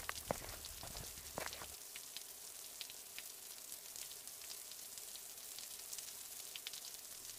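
Rain falls in the video game Sakura School Simulator, a soft steady hiss of drops pattering on surfaces, faint and continuous after a brief low rumble at the start.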